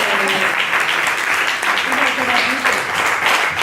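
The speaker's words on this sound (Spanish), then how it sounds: "Un aplauso para el camarón." An audience applauds during an interview event, a brief burst of clapping mixed with a few voices in the room.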